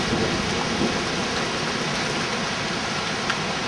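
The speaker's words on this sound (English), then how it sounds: "7 lightning strikes. That's loud." Thunder rumbles loud and continuous through heavy rain during a tornado-warning storm with high winds, one broad roll of thunder running steadily over the full stretch with no voices.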